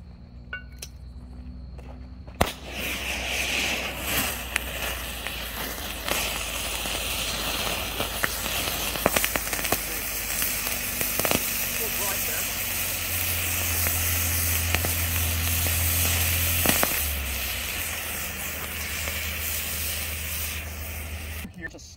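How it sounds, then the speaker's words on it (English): Thermite grenade lit off and burning against a steel target plate at an outdoor shooting event, a loud sustained roaring hiss that starts abruptly and runs on steadily, with scattered crackles and people talking nearby. "Here's the grenade we're going to use. And let's light it off."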